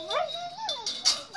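Dogs whine and yelp in a run of high, sliding cries with a sharper yip near the end, fairly close and moderately loud, outdoors beside a clothesline.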